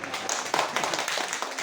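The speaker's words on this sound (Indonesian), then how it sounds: "Boleh tepuk tangan?" Hand clapping from a small group at a farmer training and simulation session, a short burst of scattered claps with broadband texture, moderately quiet and close.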